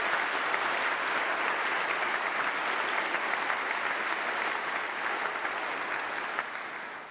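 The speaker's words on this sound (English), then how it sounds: "I think she deserves another round of applause." A large audience at a university graduation ceremony gives sustained, dense applause, a steady roar of many hands clapping that fades slightly toward the end.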